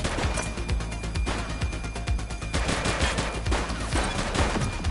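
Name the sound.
gunfire in the video game The Precinct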